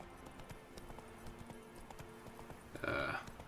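A horse's hooves clip-clopping along at a steady walk in the video game The Witcher 3: Wild Hunt, with a brief whinny near the end over faint ambient game sound.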